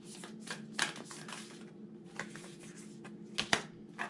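Tarot cards shuffled by hand in a quiet room, soft riffling and flicking in a few short bursts with sharper snaps, faint and close.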